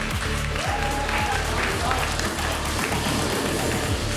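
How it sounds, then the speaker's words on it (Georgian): Audience applause for young 14-year-old grappling fighters at a grappling event, a dense steady clapping from the crowd that carries on the whole time beneath a voice talking. "კიდევ ერთხელ აპლოდისმენტები ამ ახალგაზრდა მებრძოლებს."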